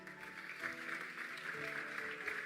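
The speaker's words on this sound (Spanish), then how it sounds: "dale un aplauso al Señor" A church congregation's applause, a soft, blurred, continuous patter of many hands at moderate distance, with a tonal hum underneath throughout.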